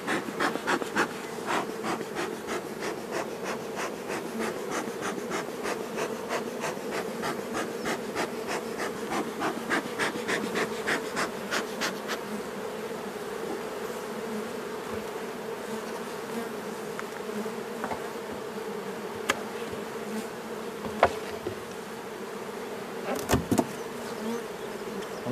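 Honeybees buzzing steadily around an opened hive body as the keeper smokes it, a dense, continuous close drone with a few faint clicks and knocks near the end.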